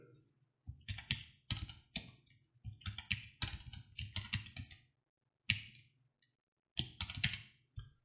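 Bursts of rapid keyboard typing, close and clear, in several runs separated by short pauses.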